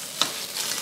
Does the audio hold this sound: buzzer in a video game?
no